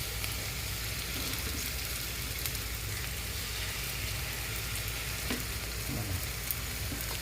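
Rava appe fry in a pan with a constant, even sizzle and crackle of hot oil, close and steady throughout, with a few faint clicks and no voices.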